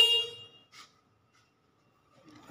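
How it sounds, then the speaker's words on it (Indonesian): A short electronic horn beep from a Noblelift PS 1560 electric battery stacker at the start, then a brief click and near silence before faint movement noise at the end. "Ini tombol klakson."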